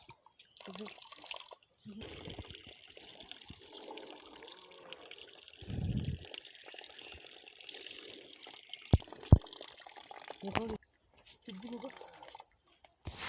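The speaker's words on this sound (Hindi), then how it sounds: "हम आते आते यहाँ धारे पे आ गए हैं, और ये है ठंडा पानी।" Cold spring water pours from a mountain spout in a hill village, a light trickle and splash that rises and falls while people talk nearby.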